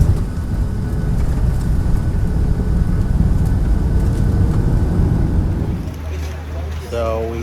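An airliner lands at Dulles Airport, heard from the cabin as a loud, steady engine and airflow roar that drops in pitch near the end.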